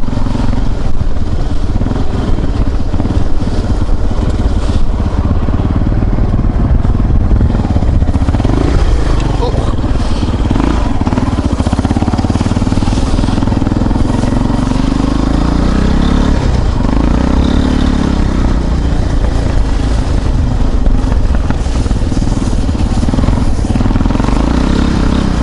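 An IRBIS XR250R motorcycle engine runs steadily while riding on snow, a loud, continuous low drone with rough clatter and mild revving throughout, and someone talks over it.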